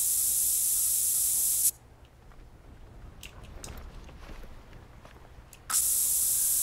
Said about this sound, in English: Give a little spray, we'll just drench it.